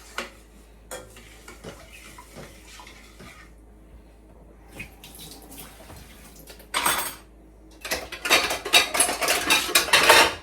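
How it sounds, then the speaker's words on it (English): A spoon stirs salt into a pot of stewed peas with pigtail, clinking and scraping in quiet bursts, then growing louder and busier with rapid metallic scrapes toward the end. "And then you stir out the salt."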